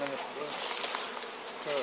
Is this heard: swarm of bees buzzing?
yes